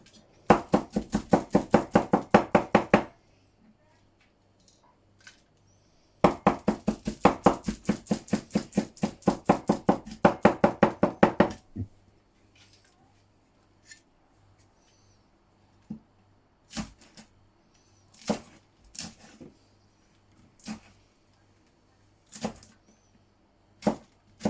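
Knife chopping ginger on a cutting board in two fast, rapid bursts of dense rhythmic strikes, then a scattering of single slower chops, close and crisp.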